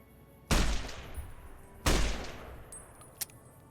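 Gunfire in the video game Fallout New Vegas: two loud, sharp shots about a second and a half apart, each ringing off into a decaying tail, followed by a small click-like report.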